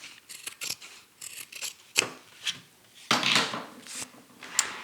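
Scissors trim the edge of bag fabric in a series of crisp, close snips and short slicing strokes, some quick and clustered, with a few brief rustles between cuts and no voices.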